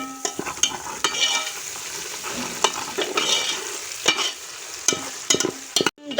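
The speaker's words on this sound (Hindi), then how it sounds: "अब हम करेंगे अपने प्याज़ों को फ्राई।" Onions frying in ghee with ginger garlic paste for aloo gosht, a loud, continuous sizzle broken by repeated sharp spoon scrapes against the pan at an irregular rhythm, close up and without talk.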